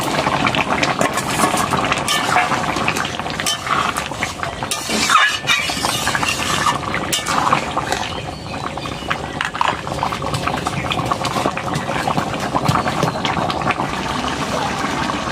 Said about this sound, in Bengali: এবার আমি চিংড়ি মাছটা দিয়ে দেবো।